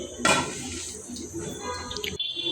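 A lid is set onto a cooking pot on the stove, with sugar just added to fried rice being cooked to a boil: one clattering metal contact near the start, then soft kitchen rustle and a faint hiss.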